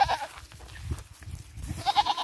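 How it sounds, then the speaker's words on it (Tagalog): A big male goat bleats close by, a short nasal call at the start and another wavering bleat near the end, with low rustling and handling noise between. "Malaking toro ng kambing."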